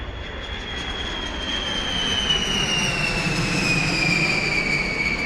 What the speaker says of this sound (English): If you guessed a plane flying overhead